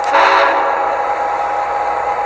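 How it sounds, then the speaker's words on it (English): A Tsunami2 diesel sound decoder sounds its locomotive horn as a stop signal: a loud, sustained chord-like blast that fills the whole clip, strongest in the first half-second and then holding steady. "now when we come to a stop, we can blow our whistle signal"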